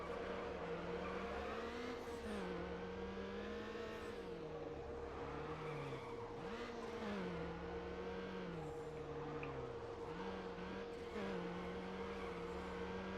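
A car drifts in Need For Speed Underground, its engine droning steadily with the pitch rising and dipping through throttle changes and faint tire noise, sustained and fairly quiet throughout.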